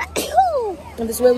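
A single sharp sneeze bursts out near the start, followed by someone talking in French.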